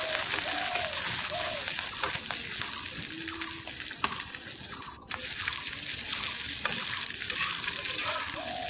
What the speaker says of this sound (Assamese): মাছৰ পেটুখিনি অলপ সময় ভাজি লম